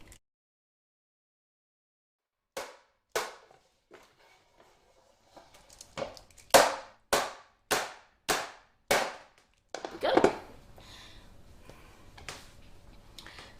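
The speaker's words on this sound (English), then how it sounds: "I want to bang this on the work surface 10 times just to take out some of the air" Macaron tray banged down on a kitchen work surface: two sharp hits, a pause, then a quick run of about six loud, evenly spaced knocks, followed by some clattering.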